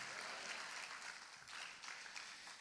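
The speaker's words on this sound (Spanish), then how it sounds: "Dele palmas al Señor, hermano." A church congregation claps steadily and softly at a distance, a continuous patter of hands sustained throughout with no voices standing out.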